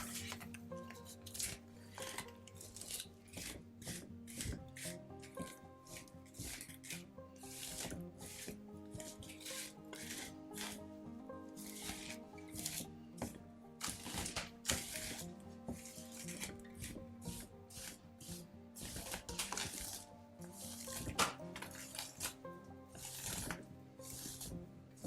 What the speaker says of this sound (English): The rest of this I want to brush again.